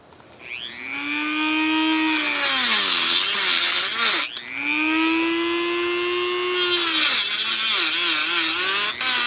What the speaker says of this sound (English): I'm going to try my Dremel tool and just try and cut the metal straps